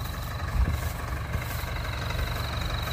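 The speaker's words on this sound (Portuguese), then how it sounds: "esse é o nosso trator 4292 Extra, tá mais ou menos com entre 110 e 115 CV de potência" A 4292 Extra tractor of roughly 110 to 115 hp runs with a silage harvester while cutting wheat silage. A continuous low engine rumble holds steady and close throughout, with no talking.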